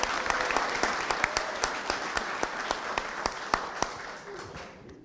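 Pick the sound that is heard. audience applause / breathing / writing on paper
audience applause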